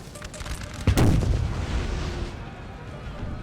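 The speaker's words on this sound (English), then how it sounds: "Okay, we have 4 6-pounder cannons set here." A volley from 6-pounder artillery cannons in the Napoleonic battle game Napoleon Total War, one heavy booming blast followed by a long rumbling decay over distant battlefield noise.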